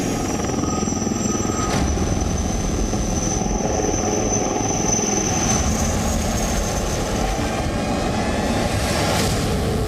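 HAL Prachand light combat helicopter flying, a loud continuous rotor and turbine roar with a steady high whine, close and unbroken, with no voices.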